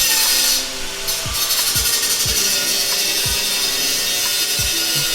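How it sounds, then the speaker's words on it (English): Angle grinder cutting metal in a garage on engine drop day, with a steady, loud, high-pitched whine and repeated short scraping catches as the disc bites, run by a first-time user. "We got a first time angle grinder guy out here."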